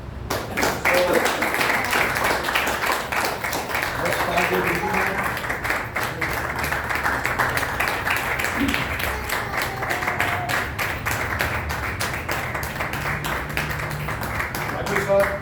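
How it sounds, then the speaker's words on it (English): An audience at a Hindi film music and raga event claps steadily for honoured singers, a continuous roomful of applause running throughout while people talk over it. "So we need to really clap very loudly for all our singers."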